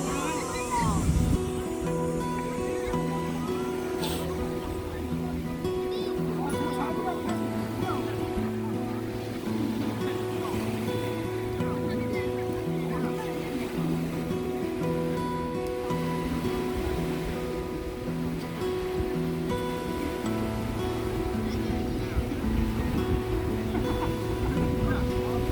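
Ocean waves wash onto the shore at Paradise Beach in Ajax, Ontario, a steady surf rush running through the whole stretch beneath people talking and a droning, tonal hum.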